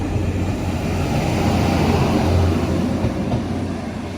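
Near Ravensthorpe station a train pulls away, a loud, continuous rumble of wheels and traction with no voices.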